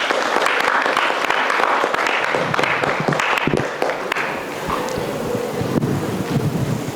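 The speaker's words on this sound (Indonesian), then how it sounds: "Tepuk tangan yang buat yang berdiri ini." A group applauds students standing up during a Ramadan activity for Buddhist university students. The clapping is irregular and fairly close, with some rumbling, wind-like noise underneath, and it thins out partway through.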